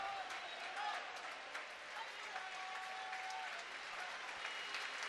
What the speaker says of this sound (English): the fans that have stayed behind to cheer are giving a polite applause to both teams